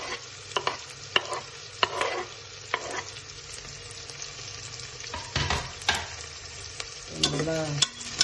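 Long-sliced onions frying in oil for chicken biryani, a moderate sizzle under repeated clattering stirs and spoon knocks against the pan at an uneven rhythm, up close; no speech.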